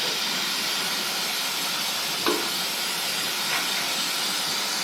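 Steady hiss of water spraying to wash oil off a CF Moto ZForce 1000 side-by-side, continuous and fairly close with a couple of brief knocks.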